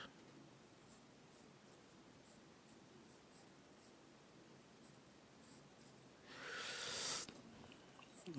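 A pencil scratches steadily across paper in soft, continuous strokes, close and quiet, ending in a louder, brisker burst of scribbling.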